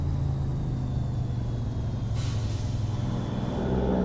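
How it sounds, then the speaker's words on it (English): A heavily loaded truck hauling a B-train in American Truck Simulator rumbles steadily with a low engine drone as its Jake brake works, and a brief airy hiss rises near the middle. "Like the Jake brake sound in it"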